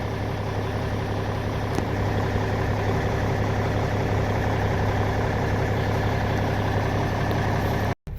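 A Cummins N14 diesel engine idles steadily and close by, a dense unbroken low rumble with a constant hum that cuts out abruptly for a moment near the end.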